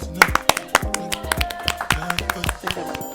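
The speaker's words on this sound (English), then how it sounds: "Can you clap for me, guys?" A few people on a podcast clap in a loose string of light claps and taps, with voices and tonal sound running underneath.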